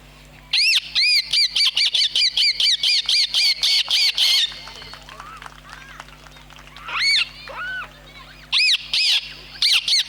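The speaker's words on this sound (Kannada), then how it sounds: "ವಿಶೇಷವಾಗಿ ಗಿಳಿಗಳ ಧ್ವನಿ ಯಾವ ರೀತಿ ಇರ್ತದೆ ಬೆಳಗಿನ ಜಾವ ಅಂದ್ರೆ" Parrots squawk in the early morning with rapid runs of shrill, harsh calls that come in bursts, first a dense fast series, then scattered single and paired squawks over a faint low hum.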